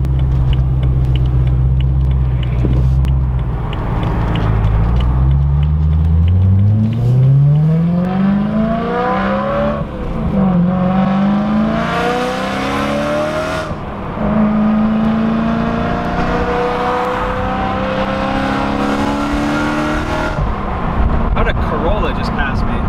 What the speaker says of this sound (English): Let's go ahead and just do some quick driving.